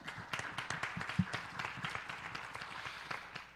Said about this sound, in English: So let's give all those sponsors a round of applause.